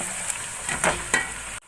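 Spices being stirred in a hot oiled pan for chicken korma: red chilli powder, turmeric and dry coriander sizzle with a steady hiss while a spoon scrapes through them in a few soft strokes, close up.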